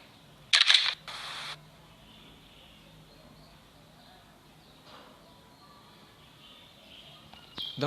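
A camera snaps a photo for facial verification, two sharp close electronic shutter bursts early on, then a quiet room hum with a faint click and another brief snap at the end.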